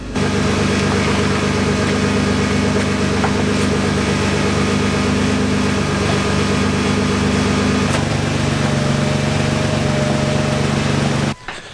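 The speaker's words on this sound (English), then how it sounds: "You can hear the compressor's quiet actually, raised off the floor of the car" An air ride suspension compressor runs in a Nissan GTR with the car raised off the floor, giving a steady, droning mechanical hum with layered tones that holds evenly for about eleven seconds before cutting off abruptly.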